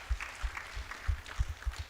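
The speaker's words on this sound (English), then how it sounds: "I wish to ask everyone to clap and give them hearty congratulations" An audience in a hall claps in a short, fairly quiet burst of applause, the individual hand claps loosely spaced.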